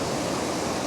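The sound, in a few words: waterfall flowing over rocks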